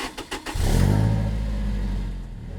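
A 2009 Toyota Tacoma with the 4-cylinder engine and access cab drives down the road, its low, steady engine drone rising after a few brief clicks and then holding loud and even.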